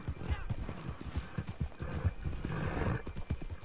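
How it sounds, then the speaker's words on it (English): Horses in the Western video game Red Dead Online, steady hoofbeat clip-clop from several mounts with an occasional whinny, close and continuous, with players talking over the hooves. "I hear y'all's horses"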